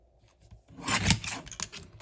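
Cardstock is cut with a paper trimmer for a card layout, a short close rasping slide of the blade lasting about a second after a quiet start.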